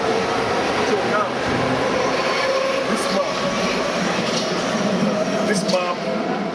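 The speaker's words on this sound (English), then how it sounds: "The train is going bye-bye, they are gone." A Hamburg U-Bahn underground train pulls away from the platform with a steady, loud rumble and brief wheel squeals, filling the whole stretch without a break.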